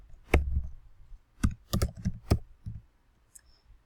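Keys clatter on a computer keyboard as an author name is typed in, a quick burst then short clustered strokes, close and fairly loud with no talking.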